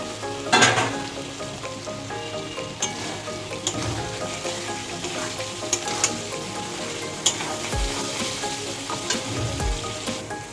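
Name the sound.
fried potatoes sizzling as they are added to cooked masala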